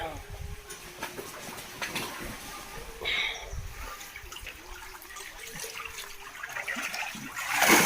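Water from a fish-farming tank drains through a pipe with a soft gurgle and trickle, heard at low level under people talking, rising into a louder splash at the very end.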